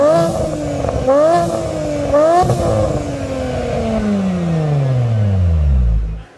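Car engine with a big single turbo kit revving hard, rising in several sharp pulls, then holding a long steady drone that sweeps down as it winds off, loud and close with no talk.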